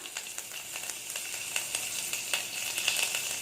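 Mustard seeds and urad dal crackle and pop as they hit hot coconut oil, a steady close sizzle dotted with sharp bursts of spluttering, with no talking.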